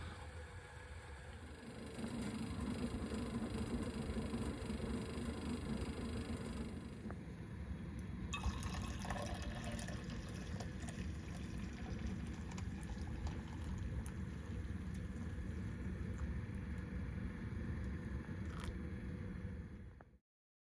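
A coffee pot heats inside a hot tent at a whitetail hunting camp in Alberta, giving a steady, close hissing rush that starts after a brief quieter moment and runs evenly to the end.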